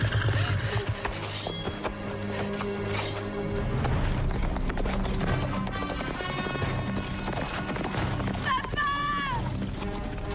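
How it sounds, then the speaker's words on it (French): Horse hooves clip-clop steadily across a scene amid a dense music score and ambient clatter, with a horse's whinny rising near the end and no talk during it. "Le cheval de Fane?"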